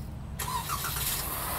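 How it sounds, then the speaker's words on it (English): A 2017 Jeep Wrangler Unlimited Winter Edition engine cranks on remote start and catches abruptly, then settles into a steady idle close by. "the vehicle cranks."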